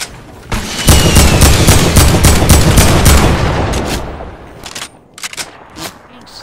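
Rapid bursts of gunfire crackle in a shooter video game during sniping, a dense loud volley lasting a few seconds, then fading to scattered sharp single shots.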